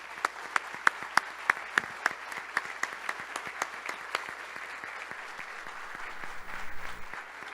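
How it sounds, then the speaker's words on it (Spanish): An audience at a tourism investment forum applauds, distinct individual claps ringing out over a thinner patter, gradually tapering off with a low rumble and faint voices near the end. "un aplauso fuertísimo para nosotros"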